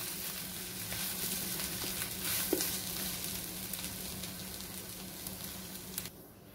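Ivy gourd and garlic curry sizzles steadily in a pan, a continuous close frying hiss with a faint clink partway through, ending abruptly.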